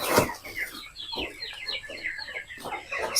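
Free-range village chickens cluck and chatter close by, a busy run of short, overlapping calls with occasional sharper squawks throughout.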